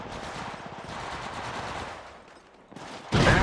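Rapid automatic gunfire in the mobile battle royale game Apex Legends Mobile, a dense steady stream of shots that dips briefly before a louder burst near the end, with no voices.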